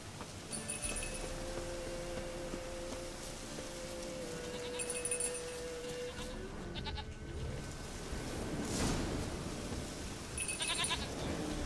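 A goat bleats a few times in The Witcher 3 game, brief cries over a steady rain-like background with ambient game sound, fairly faint and without talk.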